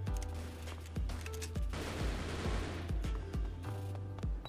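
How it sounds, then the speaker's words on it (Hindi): Rapid gunfire while shooting an enemy in a team deathmatch on the Snowdust map of a video game, played in offline mode, with sharp repeated shots over a continuous loud rumbling game mix. "उस पर फायरिंग करते करते ऐसे मारा भाई हमने से"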